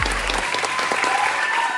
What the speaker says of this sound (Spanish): primero con dar unas fuertes palmas toda la producción